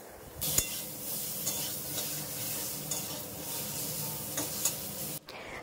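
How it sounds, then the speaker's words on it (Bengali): Potatoes coated in salt and turmeric fry in oil with nigella seeds, sizzling steadily at close range while a utensil stirs and scrapes the pan a few times; no one speaks. "আর এবার নুন হলুদ মাখানো আলুগুলো দিয়ে খুব ভালো করে লাল লাল করে ভেজে নেব।"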